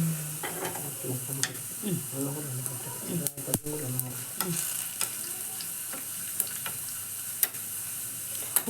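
Curry leaves frying in oil over a low flame give a steady soft sizzle with faint stirring ticks and scrapes throughout, while someone talks over the cooking now and then.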